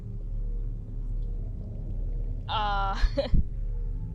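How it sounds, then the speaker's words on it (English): A Reaper Leviathan roar in the video game Subnautica, a single brief harsh cry rising over a low steady underwater rumble, fairly faint and distant, followed by a couple of dull thumps. "That's the sound of a Reaper, and they don't live in the Grand Reef"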